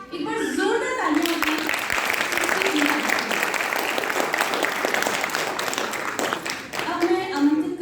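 An audience at a cultural function by blind artists bursts into loud, sustained applause, a dense wash of clapping that fills several seconds, with brief voices at the start and end.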